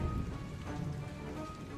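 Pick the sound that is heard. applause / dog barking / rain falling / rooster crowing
rain falling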